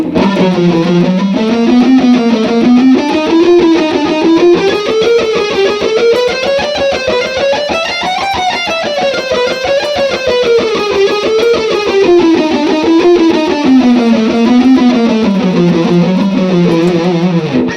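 Distorted electric guitar picking a continuous run of notes that climbs and descends steadily, loud and unbroken throughout.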